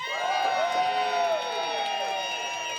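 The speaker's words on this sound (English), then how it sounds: "give us a cheer if you think you would have wanted Eddie to win." A comedy roast audience cheers and whoops, a dense crowd roar with rising individual shouts, loud and sustained throughout.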